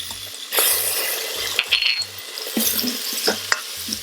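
Onions, garlic and chili with urad and asafoetida frying in an Instant Pot: soft, steady sizzling broken by scraping and clinking of a stirring utensil against the pot, with a low rhythmic hum pulsing beneath.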